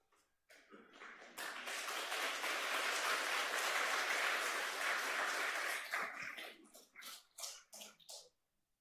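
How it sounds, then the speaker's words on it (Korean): Congregation at a church's 57th anniversary Sunday service applauds to welcome a visiting pastor: a sustained wash of clapping that swells, holds for several seconds, then breaks into scattered trailing claps. "큰 박수로 격려에 맞이해 주시면 감사하겠습니다"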